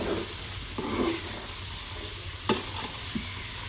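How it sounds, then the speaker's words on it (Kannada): Pork frying in batches on a wood-fired stove: a steady loud sizzle and hiss fills the whole stretch, broken by a few sharp stirring scrapes, with no talking. "ಹಾಗೆ ಬ್ಯಾಚ್ ವೈಸ್ ನಾವು ಇದನ್ನು ಫ್ರೈ ಮಾಡ್ಕೊಳ್ಳಿಕ್ಕಿದೆ."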